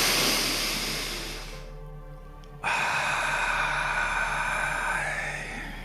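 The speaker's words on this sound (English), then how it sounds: "Let's take 3 nice deep breaths, expressing our love for ourselves on the exhale." Slow deep breaths during a guided sunrise energy meditation: a long, soft exhale fades out, then after a brief pause a fuller inhale begins, with a steady low hum underneath and no speech.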